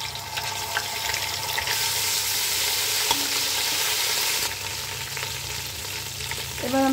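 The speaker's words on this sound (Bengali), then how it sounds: "এখন আদা বাটা দিয়ে দিলাম" Ginger paste hits a pan of reddened onions, garam masala and bay leaves, producing a loud, continuous sizzle with the rasp of stirring that surges in the middle, then eases slightly before a faint metallic clink at the end.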